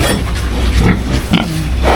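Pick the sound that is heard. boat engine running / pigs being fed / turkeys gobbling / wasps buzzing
pigs being fed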